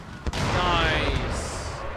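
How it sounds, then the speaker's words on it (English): Mortar fire in Empire Total War during a Battle of Bunker Hill scene from the American Revolutionary War: a sharp thump, then a sustained, loud, rumbling barrage of booming fire. "here comes the mortar fire"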